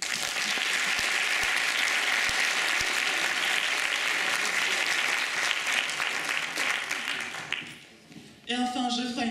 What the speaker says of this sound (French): Et c'est pour ça que nous pouvons l'applaudir.